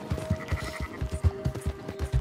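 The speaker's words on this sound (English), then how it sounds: "Oh, they're herding some sheep." Sheep in Red Dead Redemption let out a run of repeated bleats, close and fairly loud, one after another with brief gaps, over a steady low game ambience.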